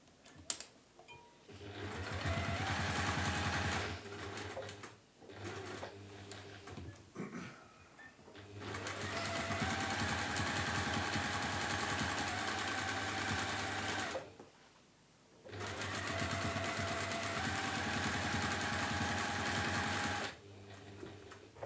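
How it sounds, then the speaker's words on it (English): A sewing machine stitching around the top of a fabric gift basket, running in long steady rhythmic bursts with short stops between runs, close and alone without talk. "And then we're going to stitch around the top."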